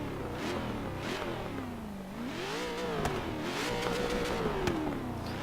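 A 1000+ horsepower Ford Shelby GT500 build in Forza Horizon 3 revs hard, its engine pitch dipping and climbing through sweeping swells, loud and sustained with no talking.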